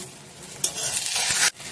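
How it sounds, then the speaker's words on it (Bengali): An egg fries in hot oil in a pan after being flipped, giving a steady close sizzle with a brief louder burst of spatter near the end. "এবার খুলে আমি ডিমটা উল্টে নেব।"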